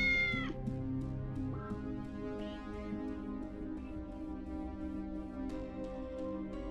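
Cats meowing in the cyberpunk point-and-click video game Tales of the Neon Sea, several drawn-out meows and short cries over a soft ambient game music bed.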